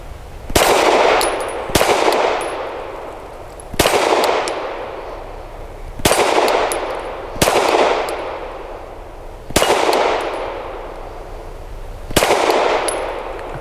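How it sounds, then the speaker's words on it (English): A Canik SFx Rival S pistol fires PMC Bronze rounds outdoors, six loud single shots spaced one to two seconds apart, each with a sharp crack and ringing decay, close and with no voices. "She's got 10 rounds of PMC bronze and ready to go."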